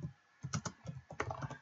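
Typing on a normal computer keyboard to enter a chat message in Clash Royale running on BlueStacks, with several short bursts of quick, close clicking keystrokes separated by brief pauses.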